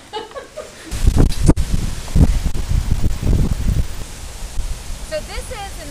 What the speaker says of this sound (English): So it's very windy today,